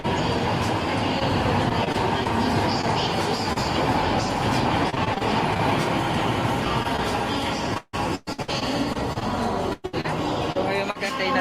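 MRT metro train in Manila riding toward Shaw Boulevard, with a steady rumbling roar and rattling from inside the carriage and a few brief dropouts near the end.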